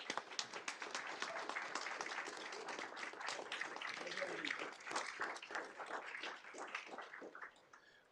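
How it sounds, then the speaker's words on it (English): An audience at a Board of Education meeting applauds steadily, a dense patter of many hands that holds throughout and eases off slightly near the end. "Let's give him a big round of applause."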